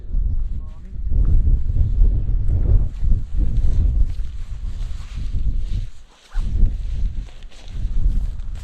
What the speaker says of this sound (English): the wind's blowing from Andy's direction